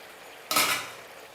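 Fried chicken pieces tipped into a pan and stirred for a dragon chicken dish, a single clattering scrape of utensil against pan with a brief sizzle that fades quickly, no talk.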